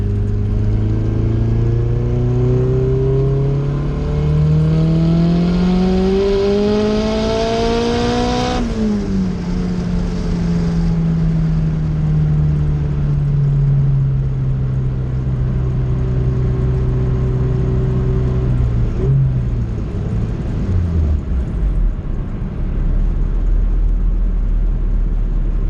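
A turbocharged B20V engine in an EK Civic on S300 tuning strains hard under full throttle, pitch climbing steadily then dropping at each gear change through the gears, loud and close with no talk.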